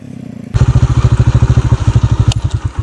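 A motorcycle on a long road trip from Pakistan to Iran sits silent, then starts with a sudden jump in level and settles into a loud, close, rapid thumping engine beat.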